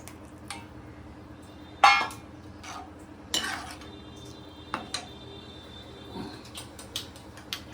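Mutton biryani mixture with yogurt being stirred in a pot, scattered clinks and scrapes of a spoon against metal, a few sharper knocks among softer scraping, fairly close with a low background hum.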